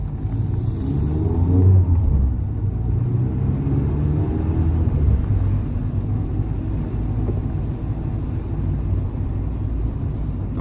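A Mazda MX-5 ND engine while driving, a steady low rumble with road and cabin noise, moderately loud and continuous, no talking over it.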